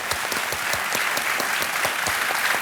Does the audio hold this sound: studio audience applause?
yes